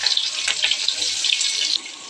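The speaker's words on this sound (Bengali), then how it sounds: "আজকে আমি পোলাওয়ের চাল ভাজবো না, এখানে পানি দিয়ে দিছি।" Water is poured into a cooking pot to boil with spices for polao, a bright steady splashing stream close by that stops after about two seconds, leaving faint room tone.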